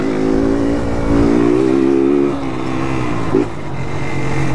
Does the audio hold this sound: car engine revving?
yes